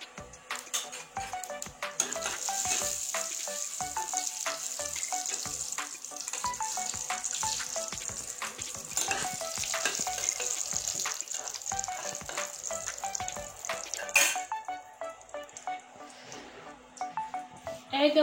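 Cumin seeds tempering in hot oil for a thin Bengali egg and potato curry, a steady close crackling sizzle with occasional utensil clinks, easing off near the end.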